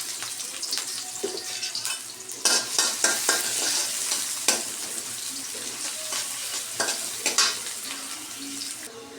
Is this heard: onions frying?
yes